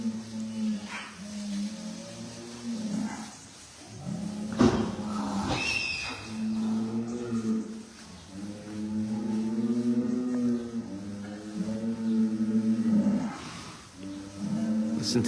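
Several bulls bellow and moo in overlapping, drawn-out calls outdoors on a farm, loud and near, repeating across the stretch with brief gaps between them.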